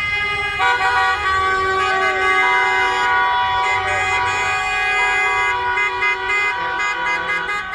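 Many car and van horns honk at once in a loud, sustained protest chorus against the closure of neighborhood markets in Calabria, some blaring steadily and others tooting in short bursts, with traffic noise beneath.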